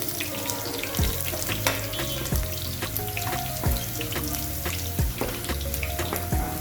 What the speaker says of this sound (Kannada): ಈಗ ಬೆಳ್ಳುಳ್ಳಿ ಒಂದು ಸ್ವಲ್ಪ ಕೆಂಪಾಗೋ ಮಟ್ಟ ಫ್ರೈ ಮಾಡಬೇಕ್ರಿ.